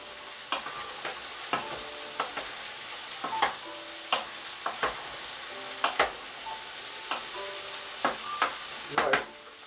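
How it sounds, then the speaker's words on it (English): A spoon is stirred through tomatoes and browning meat in a pot. Clicks and scrapes come at irregular intervals over a soft, steady sizzle, close by and with no talking. "I'm going to stir that in"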